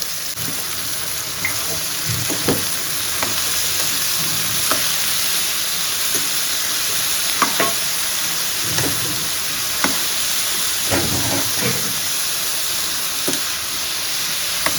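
Bottle gourd pieces fry in a pan with a steady sizzle while a spoon stirs them, giving repeated scraping clicks at an uneven rhythm, close and continuous.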